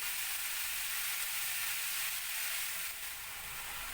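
Mixed vegetables with spices frying in a pan, a steady, even sizzle that holds at constant loudness throughout with no voices.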